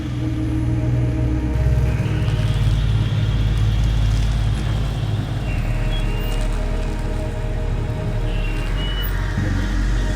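A Toyota Supra being driven across a lot, its engine giving a steady low drone with gear-like shifts in pitch and a continuous rumble throughout, close and fairly loud with no talk.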